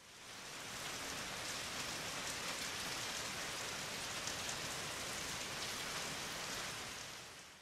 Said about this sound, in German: gibt es auch kalten Regen